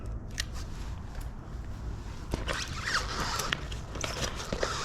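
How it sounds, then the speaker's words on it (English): Tape is peeled off an e-bike tire liner on an Ariel Rider X-Class, giving short close crackling rips and sticky tearing bursts in quiet surroundings. "Take this little tape off right here."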